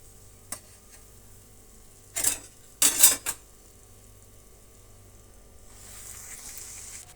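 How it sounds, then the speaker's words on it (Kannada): Sweet dough pieces drop into hot oil for deep frying, giving a few short hissing bursts and light kitchen clatter, then a soft steady sizzle builds near the end. "ಈಗ ಒಂದೊಂದಾಗಿ ನಾವು ಎಣ್ಣೆಯಲ್ಲಿ ಡೀಪ್ ಫ್ರೈ ಮಾಡ್ಕೊಳ್ಳೋಣ"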